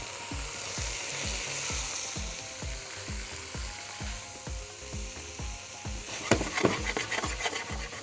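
Chickpeas fry in a pot for harira soup with a constant hiss under a steady, rhythmic knocking and scraping. A burst of busier clatter comes near the end, and nobody speaks.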